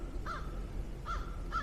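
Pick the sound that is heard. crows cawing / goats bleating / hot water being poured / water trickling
crows cawing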